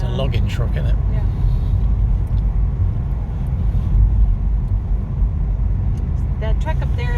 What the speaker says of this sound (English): It's a logging truck, isn't it?